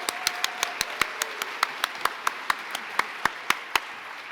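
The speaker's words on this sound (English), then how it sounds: "Let's give a round of applause for our amazing volunteers in this house." Audience at an Asian Pacific American heritage awards ceremony clapping for volunteers, heard here as a sparse, evenly spaced series of distinct claps, fairly near against a quiet room hum.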